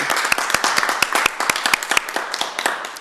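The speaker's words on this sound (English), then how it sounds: "So council, let's give staff a round of applause for a job well done." City council members clapping for city staff at a council meeting, a small group of sharp, distinct claps close by, irregular and sustained for a few seconds without voices.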